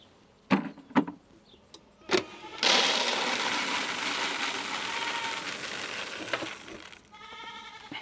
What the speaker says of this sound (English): I'm coming, you noisy goats.